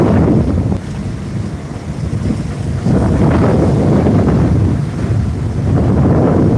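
Strong wind roars steadily across the deck of a ship at sea, bound for Sandwip, buffeting the microphone, with the rush of waves and a low vessel rumble underneath, loud and continuous throughout.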